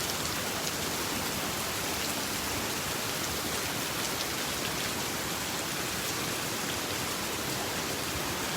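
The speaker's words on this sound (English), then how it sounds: "The rain has set in." Steady, dense rain pours down on the beach at Delnor-Wiggins on a Friday morning, a constant close hiss of drops with no letup and no voices.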